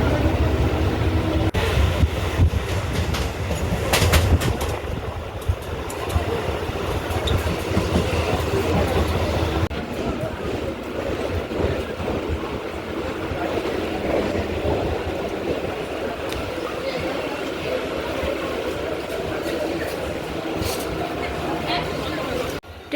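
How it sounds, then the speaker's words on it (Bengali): A moving passenger train rolls along with a steady rumble and clickety-clack of wheels on rails for over twenty seconds. Voices murmur faintly inside the carriage. "ট্রেন ছেড়েও দিয়েছে"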